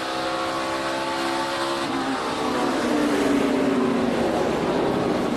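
A NASCAR race car in the 2014 Blue Jeans Go Green 200 roars loud and steady as it downshifts into turn 1, the engine pitch dropping partway through with other engine drone around it.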